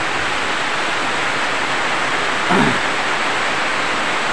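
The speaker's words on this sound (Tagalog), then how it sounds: "Lagang lakas ng baha o mga ka-DIY oh." Strong floodwater rushes past in a steady, loud, broadband roar that holds unchanged throughout, with one brief swell near the middle and no voices.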